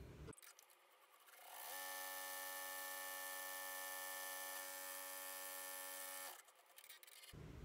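An embroidery machine stitches the inside lining of a front pocket for an in-the-hoop double zipper bag, a loud steady mechanical whir with a buzzing hum lasting several seconds, starting and stopping cleanly amid quiet room noise.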